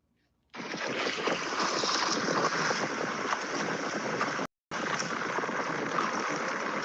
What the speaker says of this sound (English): Here was a windy day.